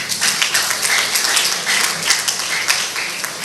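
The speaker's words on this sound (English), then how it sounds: "Clap now." Audience applause at an acknowledgement ceremony, a dense, even wash of many hands clapping close by with no voices on top.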